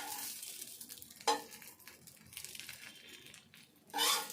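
A sago dosa fries in a pan with a low sizzle, punctuated by a few sharp scrapes and clatters as it is turned or moved.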